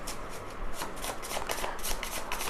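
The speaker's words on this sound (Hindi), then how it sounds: "पहले शफल कर लेते हैं अच्छे से।" Tarot cards being shuffled by hand in a continuous rapid riffle of crisp, papery flicks, close and fairly quiet, with no talking over it.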